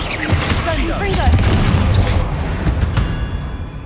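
A Confringo fire spell bursts in the Hogwarts Legacy game, booming explosions and crackling blasts layered over combat noise, with a voice shouting briefly amid the loud, dense impacts.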